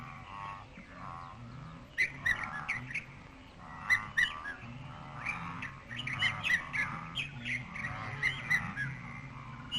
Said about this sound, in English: vulturine guinea fowl